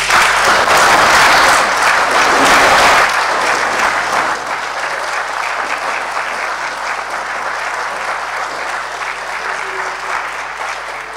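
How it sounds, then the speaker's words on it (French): The plenary of a national assembly breaks into loud, dense applause that fades down to a softer, steadier clapping, with no talk over it. "je veux demander à la plénière d'applaudir très fort."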